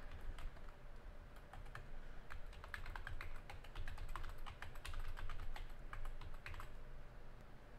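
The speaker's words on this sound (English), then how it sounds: "I'll type in the URL." Computer keyboard being typed on at a steady, brisk pace, a continuous run of close, crisp key clicks with no voices.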